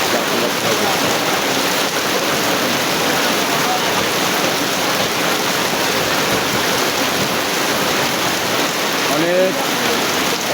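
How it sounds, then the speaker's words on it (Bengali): Torrential rain pours down in a constant loud roar of splashing water, close and unbroken, with a brief faint voice-like sound near the end. "অনেক জোরে বৃষ্টি করছে কঠিন বৃষ্টি"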